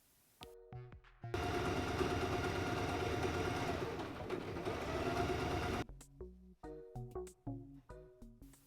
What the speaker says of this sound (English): Now we can fold the waistband in half and sew a straight stitch.